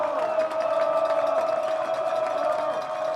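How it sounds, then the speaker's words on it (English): A college football crowd at a Wheaton versus Augustana game, on its feet for a third-down stop: a steady, loud roar of cheering for about three seconds with a play-by-play voice over it. "Crowd is on their feet. They want another stop."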